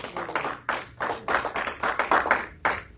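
A church congregation claps along in a quick, uneven rhythm, roughly a dozen sharp hand claps over a few seconds, fairly close and loud, with no speech over it.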